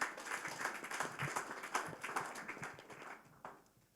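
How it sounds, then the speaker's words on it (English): Audience at a fintech pitch night clapping, a faint patter of hand claps that trails off toward the end. "Give him a round of applause"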